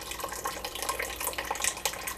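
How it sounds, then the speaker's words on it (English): Water from cooked plums being strained for jam, a brief continuous splashing and trickling pour, close and fairly quiet, with no voices. "I'll strain the water, strain the plums"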